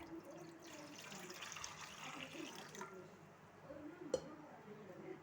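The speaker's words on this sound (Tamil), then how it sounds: "அடுப்பு பற்ற வச்சு கடாயை வச்சு தண்ணி ஊற்றிக்கலாம்." Water runs and splashes steadily into a pan on the stove, a soft continuous pour with liquid sloshing, ending with a brief clink near the close.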